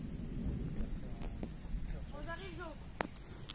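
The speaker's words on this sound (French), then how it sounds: "On entend bien tonner, tout s'est assombri." Low, rolling thunder from an approaching thunderstorm rumbles steadily in the distance under wind and outdoor noise, with a brief sharper crack near the end and a faint voice-like tone midway.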